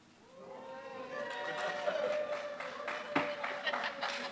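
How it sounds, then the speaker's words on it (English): An audience at a police department employee recognition ceremony applauds and cheers for a detective coming forward, with scattered clapping swelling alongside whooping voices at moderate distance. "She has a cheering squad."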